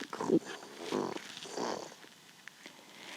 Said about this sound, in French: il se mit à ronronner comme une locomotive